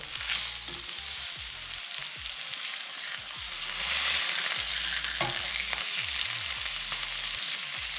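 Steady, crackling sizzle of chicken frying in a pan, with occasional scraping and stirring sounds, close and continuous.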